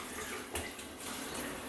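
Shower water runs and splashes steadily down a glass shower door treated with Rain-X, a continuous broadband hiss with a brief louder burst partway through, close and fairly quiet.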